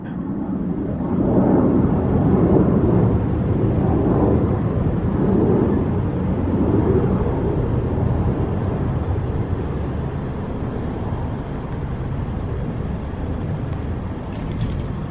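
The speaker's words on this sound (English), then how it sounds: "Just 1 second for that jet to pass over." A jet aircraft passing overhead outside an order counter, a loud, sustained broadband roar that swells early, holds steady for over ten seconds and slowly eases, with no talk over it.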